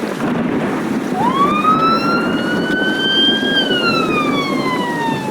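An ambulance siren: a single loud wail that rises quickly, holds a steady high tone, then slowly falls, sounding close over a constant rumble of background noise, with no talking.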